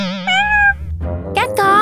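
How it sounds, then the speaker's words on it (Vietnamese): A kitten meows loudly and close by, giving several drawn-out, wavering cries with short pauses between them and a final higher-pitched mew, without any other sound around it. "Mèo con, bé đi đâu vậy?"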